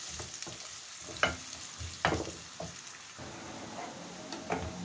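Chopped dry onion frying in half a tea glass of oil in a pan, stirred with a utensil: a soft steady sizzle with several sharp scraping clicks of the spoon against the pan, close and alone.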